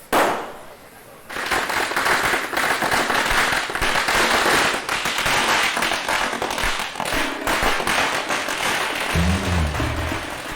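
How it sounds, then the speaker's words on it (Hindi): A dense string of firecrackers goes off after an initial pop, loud rapid crackling and bangs rattling on for several seconds in a crowded outdoor scene, with voices starting to shout near the end. "ओए, पटाखे जलाओ।"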